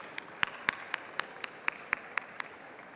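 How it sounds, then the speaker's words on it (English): Members in the House chamber give a round of applause in the form of a slow, evenly spaced series of about a dozen crisp claps, moderately faint over a quiet room hum. "Please, everyone, give them a round of applause"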